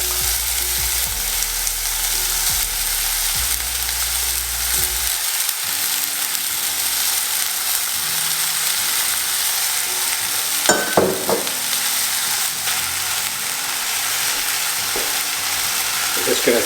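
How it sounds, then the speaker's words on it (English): Carrots go into a pan of browned beef for a beef and ale stew and sizzle steadily, a loud continuous frying hiss with a few scraping stirs partway through. "Going to add some carrots."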